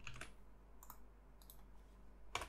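Keys clicking on a computer keyboard as a Windows ipconfig command is typed: a few sparse, quiet taps with a louder keystroke near the end over faint background hum.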